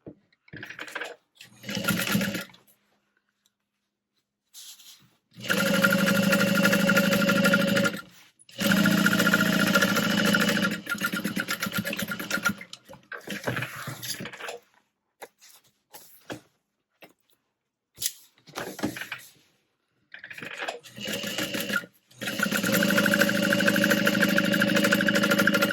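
A sewing machine top stitches along the bottom and top of a tote bag, running in long loud close bursts broken by pauses and light handling noises.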